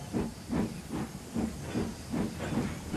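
Rhythmic bursts of steam hiss and chuff from a locomotive, about six evenly spaced puffs in quick succession with no voices.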